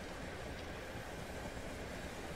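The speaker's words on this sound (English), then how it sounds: "I sense a southern train" A Southern passenger train in Train Sim World rolls past with a steady, dense rumble and rail noise, fairly quiet and unbroken, with no voices.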